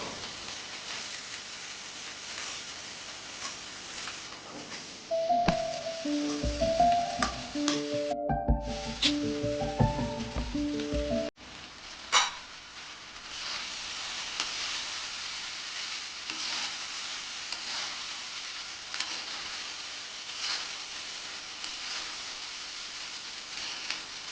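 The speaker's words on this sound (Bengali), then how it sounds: "এবার দিয়ে দেবো ভালো করে ধুয়ে জল ঝরিয়ে রাখা চিড়ে" Washed and drained flattened rice is tipped into a hot pan for chira pulao, giving a soft sizzle and scraping stir midway with a few metallic knocks, over a steady low hiss of frying.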